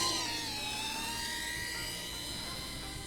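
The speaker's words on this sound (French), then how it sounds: "Démarrage en accro tout de suite, vitesse 3 et j'arme." A Star Power 130 FPV racing drone flies with a sustained high-pitched motor whine whose pitch slides and wavers, loud and steady throughout with no pauses.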